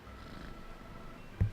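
A cat in a video game purrs softly with a low, steady rumbling texture, followed by a brief soft thump near the end.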